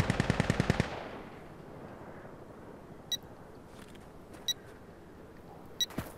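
Gunfire in the tactical shooter game Insurgency Sandstorm: a rapid burst of about seven close, loud shots, followed by a few sharp, distant single cracks spread across the quieter background.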